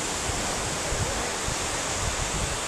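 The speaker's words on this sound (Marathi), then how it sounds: "लाटांचा आवाज ऐकू येतोय का तुम्हाला?" Sea waves at Murudeshwar on the coast, a dense unbroken roar of surf filling the whole stretch, loud and close with no voices.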